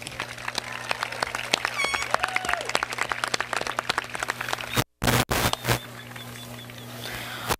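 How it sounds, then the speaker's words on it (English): A graduation audience at Woonsocket High School's 2017 ceremony breaks into loud, dense applause and cheering with scattered shouts, briefly cutting out before resuming, with voices mixed in. "Give yourselves a round of applause."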